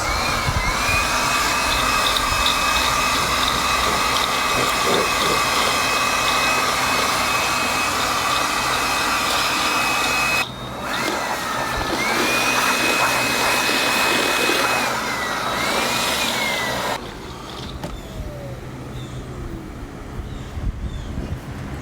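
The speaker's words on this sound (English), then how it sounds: "I have this little blower that I really like for winnowing seeds." A small electric blower runs continuously and loudly up close while winnowing seaberry seeds, giving a steady whooshing roar whose pitch shifts slightly as the airflow changes, with a brief dip and softer stretch near the end.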